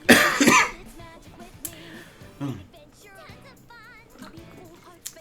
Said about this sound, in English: Still dealing with this pesky cough too,